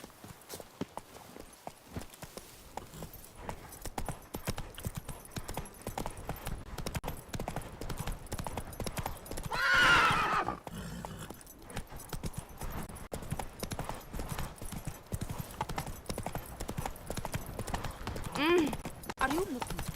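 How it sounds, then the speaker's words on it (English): A called horse gallops in the video game The Witcher 3, its hooves clip-clopping in a rapid, steady rhythm throughout, with a brief whinny midway and someone talking over it at times. "No reason I can't call my horse,"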